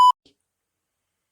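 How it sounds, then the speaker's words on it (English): A single short, sharp censor bleep cuts in, lasting only a fraction of a second, and is followed by near silence. "I'm going to beep that word out"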